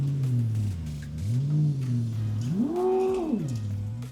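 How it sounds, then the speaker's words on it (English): Synthetic V8 engine sound played through the Mahindra XEV 9e electric SUV, a low droning exhaust note that rises in pitch as if revving, dips, then swells in a louder rev before settling back, steady and close. "you can literally emulate the sound, the exhaust note, and the engine grunt of a V8 engine"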